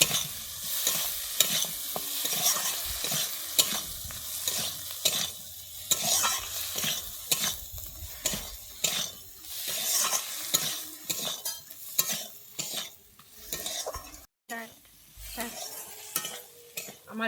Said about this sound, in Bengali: এবারে আমি দিয়ে দিচ্ছি ভেজে রাখা আলুটা দিয়ে আমি এবারে ভালোভাবে কষিয়ে নেবো